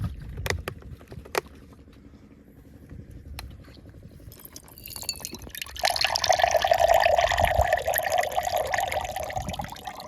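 Water from an opened tap, drawn for lemon water, starts with a few faint drips and clicks, then turns into a steady, fairly loud gushing stream.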